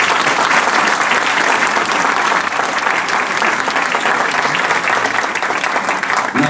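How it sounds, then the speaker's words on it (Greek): Steady, loud applause from an audience greeting council candidates at a sports club election presentation, continuous and dense throughout with no gaps. "Ένα χειροκρότημα στους υποψήφιους συμβούλους."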